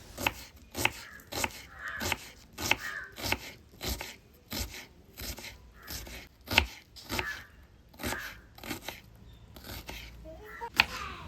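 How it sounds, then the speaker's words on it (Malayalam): A knife finely chops onions on a board, giving a run of crisp, evenly spaced cuts at a steady rhythm, close and fairly quiet, with short pauses between bursts. "ഉള്ളി നമ്മൾ കുനുകുനുന്നനെ വേണം അരിഞ്ഞെടുക്കാൻ, ചെറുതായിട്ട് വേണം അരിയാൻ"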